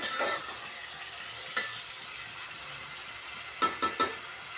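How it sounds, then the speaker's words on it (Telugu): Tomatoes fry in oil for an Andhra-style fish curry, a steady close sizzle running throughout with a few faint stirring clinks near the end. "టమాటాలు కూడా వేగిపోయినాయి బాగా"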